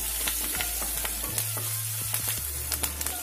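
Chili and curry leaves frying in a pan for radish sambar, a steady close sizzle with small crackles and pops throughout and a low hum underneath.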